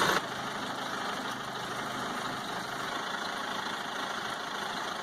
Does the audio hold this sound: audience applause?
no